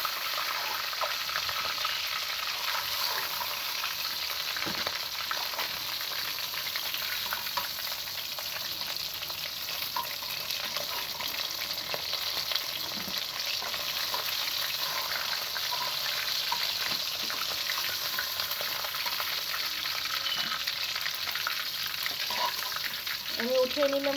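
Hilsa fish head frying in hot oil, giving a steady, dense sizzle that stays loud and even from start to finish with no pauses.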